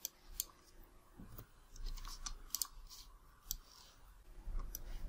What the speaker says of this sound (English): Right click your mouse and ungroup.